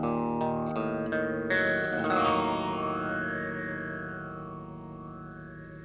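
Guitar through an EarthQuaker Devices Interstellar Orbiter pedal with filter A engaged: a few quick picked notes lead into a ringing distorted chord whose tone sweeps in a swirling filter motion as it slowly decays, without speech.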